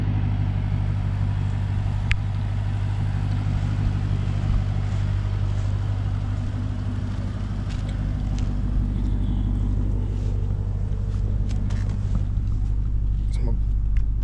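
A 2020 Lamborghini Urus engine running, a steady deep low rumble held throughout at close range, loud and continuous, with someone talking over it.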